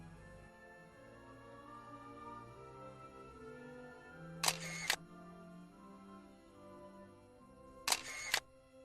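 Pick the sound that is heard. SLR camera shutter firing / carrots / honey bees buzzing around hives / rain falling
SLR camera shutter firing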